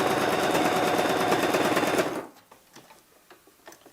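A sewing machine stitches a seam on a little girl's dress, running in a steady rapid chatter for about two seconds, then stopping, followed by a few light clicks.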